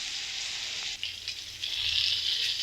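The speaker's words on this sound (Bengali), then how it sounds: "ঝিঙাগুলো ঢেলে দিলাম, একটু নেড়ে ছেড়ে ভেজে নেব" Ridge gourd pieces fry in a pan with a steady, hissing sizzle, briefly interrupted by a stir around the one-second mark, then swelling slightly louder, close and without voices.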